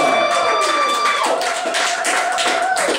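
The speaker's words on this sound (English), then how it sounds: "Give him a round of applause." An audience claps to welcome comedian Jason Tetrone to the stage, a steady burst of close applause over a sustained tonal sound.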